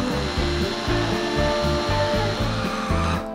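A food processor grinds no-bake, sugar-free, oil-free cheesecake crust ingredients, a steady loud motor whine with a rhythmic chopping pulse as the contents tumble, heard close and continuous.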